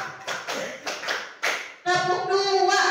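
Classroom clapping game, a group clapping a pattern: several loose, roomy hand claps in uneven rhythm, then voices chanting together.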